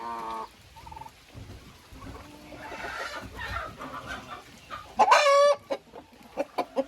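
Several chickens cluck and squawk nearby, with a loud burst of cackling midway followed by short, scattered clucks.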